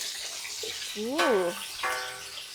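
Bananas frying in oil in a pan give a steady, hissing sizzle throughout, while a person talks over it.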